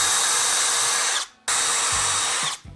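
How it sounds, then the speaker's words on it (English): A power drill bores dowel holes into wood for a wine rack in two close, loud bursts of high whining motor, the first ending as it spins down, a short pause, then a second run. "So let's go ahead and drill those holes."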